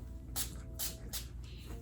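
Heat protectant sprayed onto hair: three short, crisp spritzes in an even rhythm followed by a fainter fourth, close to the microphone over a quiet background.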